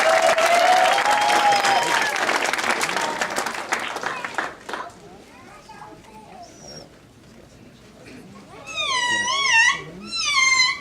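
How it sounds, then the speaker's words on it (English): Applause from an audience rattles for a few seconds, then fades into quiet, followed by a few high, squeaky warbling calls near the end. "Let's hear a big round of applause for Animaniac."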